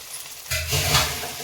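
Fried tempering in ghee is tipped into poha kheer, giving a sudden close sizzle and hiss that swells and then fades over a second or so, with a faint clink of a utensil.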